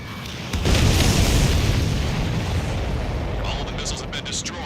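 Heavy missile explosions boom in an Ace Combat 7 aerial dogfight, a loud sustained roaring blast rumbling for several seconds with lingering crackle.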